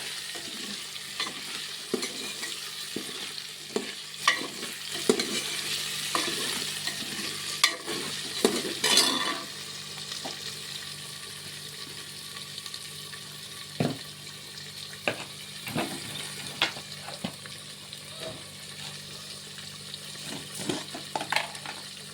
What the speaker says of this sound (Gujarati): આપણે ચટણીનો વઘાર પાકી જાય ત્યાં સુધી આપણે થોડી વાર બધું મિક્સ કરી લઈશું